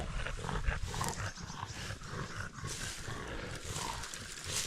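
Dogs moving through a boggy forest while mushroom hunting, heard as a steady dense rustle and low rumbling, with growl-like animal sounds mixed in and no clear barks.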